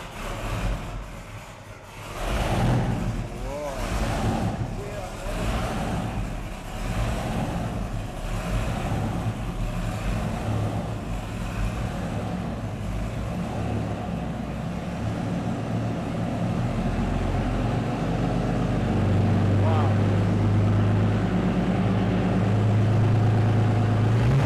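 A vintage 1943 engine, primed with the throttle cracked, cranks over in a rhythmic chug, catches and settles into a loud, deep, continuous roar that builds steadily.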